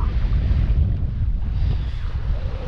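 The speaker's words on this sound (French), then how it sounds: "On a un peu de vent." Steady, loud wind buffeting the microphone aboard a sailboat, a continuous low rumble with no voices.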